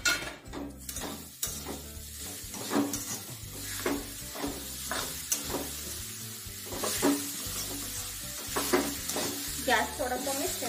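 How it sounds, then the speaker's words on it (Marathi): Grated coconut and jaggery being stirred in a pan over low heat for a modak filling, with a steady sizzle and repeated close scraping and clinking strokes of the spoon. "हे छान मिक्स करून घ्यायचे आता आपल्याला जेणेकरून आपलं सारण तयार होईल."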